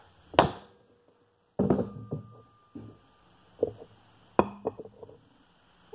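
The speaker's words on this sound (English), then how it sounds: "put my flattening jig on top of it, and give it a whack" Sharp hammer blows strike a flattening jig resting on an annealed maille ring on a small anvil, a few loud metallic whacks spaced apart with softer taps and handling noises between, close up in a quiet room.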